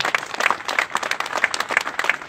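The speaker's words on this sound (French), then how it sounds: "Mouziane Abban. On l'applaudit." Sustained clapping from a political rally crowd on Kabyle independence, many hands at once with a few sharper individual claps standing out, steady and fairly loud throughout.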